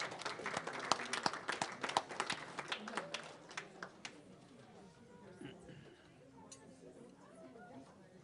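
Audience applause at an urban debate event in Jacksonville, Florida: a burst of clapping for about four seconds that fades into crowd chatter and room noise.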